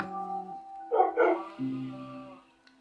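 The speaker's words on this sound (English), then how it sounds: "I'm sure I'll get rid of this dog, maybe kill it. No. That is so loud." A dog in a video game gives a few barks and whines, loud and close, between sustained tonal game sounds and with no talk.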